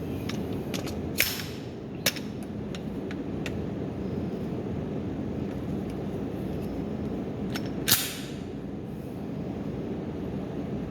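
Canik Mete pistol fired at 3-inch targets: scattered sharp cracks over a steady background roar, with three louder reports standing out and several fainter snaps between them.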